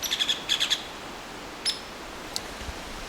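Bird calls in the open outdoors on a hike: a quick series of high, bright chirps near the start, then a few isolated call notes later, fairly clear against a quiet background with no talk.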